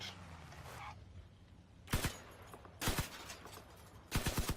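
Vehicle-mounted guns firing in the video game Crossout: three short rapid bursts of gunfire, each a cluster of sharp reports roughly a second apart, moderately loud after a quieter opening.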